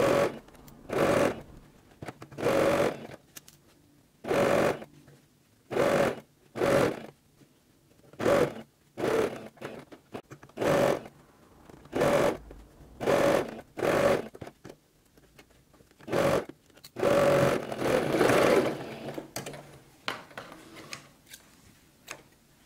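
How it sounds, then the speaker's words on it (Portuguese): A sewing machine stitches a fabric eco bag in many short, regular bursts separated by brief pauses, with a longer run near the end, close and fairly loud with no talking. "Para poder continuar a costura, né? De meio centímetro."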